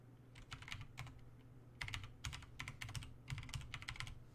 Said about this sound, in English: To scan our web server, we type in nikto-h